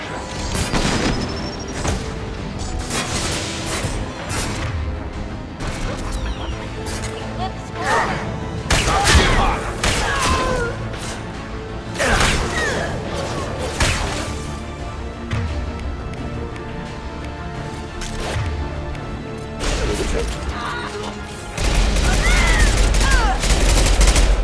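Rifle fire and booming shots in the Mass Effect video game, with bursts of gunfire and heavy impacts throughout a sustained firefight, loud and close, with a voice talking occasionally over the combat.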